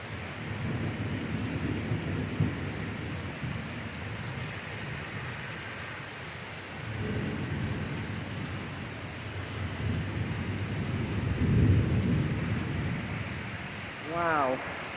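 Steady heavy rain hisses throughout a thunderstorm with torrential downpour and high winds, low rolling rumbles of thunder swelling and fading several times, and a brief voice near the end.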